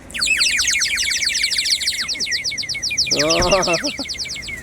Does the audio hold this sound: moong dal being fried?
no